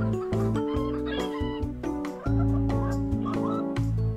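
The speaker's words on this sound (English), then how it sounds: "The chickens clucked with extra enthusiasm when they saw that I had company." Several chickens cluck and squawk continuously close by, their calls overlapping in a busy, lively chorus.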